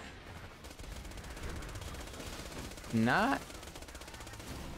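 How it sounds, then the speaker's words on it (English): Actualizer SMG fire in Borderlands 2 comes as a steady, rapid rattle of submachine-gun shots under game noise, with a brief louder rising electronic effect partway through and a single spoken word. "Let's try out our new Actualizer SMG."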